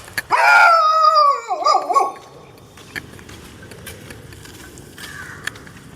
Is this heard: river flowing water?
no